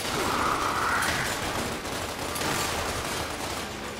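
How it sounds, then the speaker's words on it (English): Gunfire from a shotgun in Gears of War Ultimate Edition, a dense, steady burst of game combat noise that holds loud and continuous throughout, with no talk over it. "Shotguns are OP."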